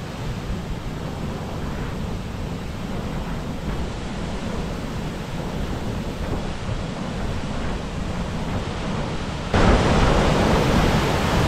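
A waterfall in forest near Badlapur roars as a steady, dense wash of falling water, close and loud throughout, swelling slightly louder near the end.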